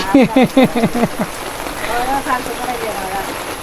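A soft, steady patter of light rain runs under a person talking near the start, continuing faintly once the voice stops.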